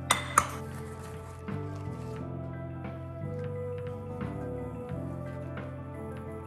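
Cooked bacon is moved onto a plate, giving a couple of sharp clinks of utensil on dishware at the start, then faint scrapes and soft kitchen clatter.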